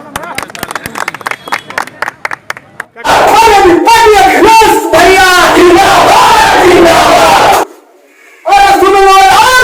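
Crowd clapping and cheering at a Samajwadi political rally in Ghazipur: scattered claps first, then a loud roaring burst of applause and shouts that briefly drops out before surging again.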